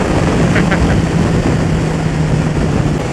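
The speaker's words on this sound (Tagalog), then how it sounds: "Grabe yung hangin." Strong wind roars across the microphone of a Yamaha XSR900 motorcycle riding along the NLEX expressway, a dense, steady rushing blast filling the whole span with a low engine hum beneath.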